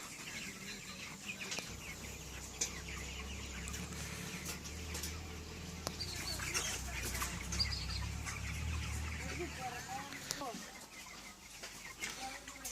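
Broiler chickens on a commercial poultry farm cluck and murmur in a steady mid-distance chorus, with occasional wing flaps and bumps, while voices talk intermittently over the flock.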